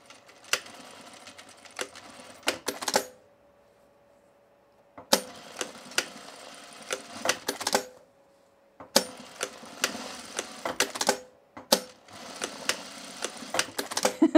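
A sewing machine stitches vertical channels on a tool belt in three bursts of rapid, clattering needle strokes separated by quiet pauses. Sharp clicks and knocks from handling the work come between the runs.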